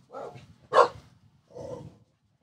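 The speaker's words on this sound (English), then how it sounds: "They're barking at something out there." Dogs bark three times in separate bursts, each a short cluster of barks, at moderate loudness and fairly close by, with no talking.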